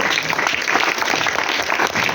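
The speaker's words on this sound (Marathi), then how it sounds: "टाळ्या वाजवा तिन्ही माझे विद्यार्थी" Students at a school children's literature gathering clap together, a dense, loud burst of applause that stays even throughout.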